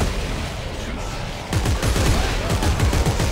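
Rapid bursts of gunfire in the video game Dead Space 3 crackle in quick succession over a noisy background, the shots growing denser in the second half.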